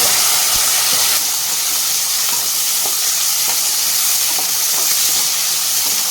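Small shallots frying in hot oil with curry leaves for a dry fish gravy, giving a loud, steady sizzle and hiss with faint stirring clicks throughout.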